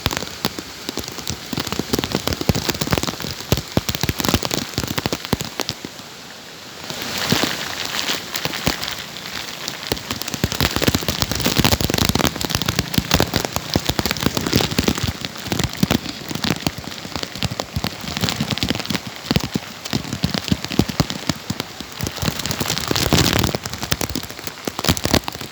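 Heavy rain pours down during Typhoon Aghon amid flooding, a loud, dense and continuous roar of drops beating on surfaces throughout, with no pauses and no voices.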